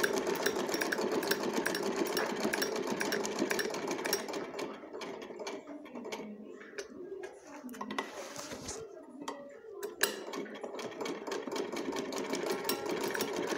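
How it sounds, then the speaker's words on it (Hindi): A sewing machine runs steadily, stitching the sides of a homemade fabric pencil pouch, its motor whirring loudly with a brief slowdown midway before resuming, with no talking. "दोनों साइड से ही ऐसे ही सिल लेना है।"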